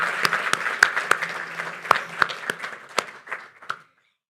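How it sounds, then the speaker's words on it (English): An audience gives a round of applause at an annual interfaith iftar held at a mosque during Ramadan, with a few sparse, distinct claps spaced across the room before they fade out. "Let's give them a round of applause."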